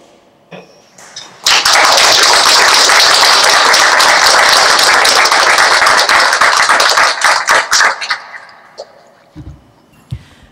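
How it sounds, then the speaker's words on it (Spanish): Audience applause for newly sworn-in lawyers at a Supreme Court swearing-in ceremony, a dense, loud burst of many hands that starts abruptly, holds steady for several seconds, then thins into scattered claps and fades. "Aplaudamos este logro"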